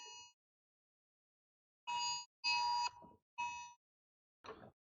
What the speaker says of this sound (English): Okay, alarm clock went off.